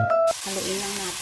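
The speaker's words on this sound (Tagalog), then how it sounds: "Haluin lang natin" Meat and onions frying in a pan, a steady sizzle with a soft stirring scrape, close and continuous for a moment.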